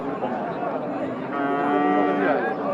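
Friesian cow mooing at a village cattle market, a loud, drawn-out low call lasting a couple of seconds over the market hubbub, with no talk during it.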